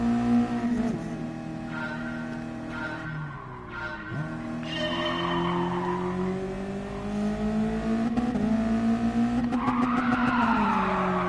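A race car in Gran Turismo Sport brakes hard with a long, rising tire squeal over a droning engine, which then climbs in revs as the car pulls away, loud and up close.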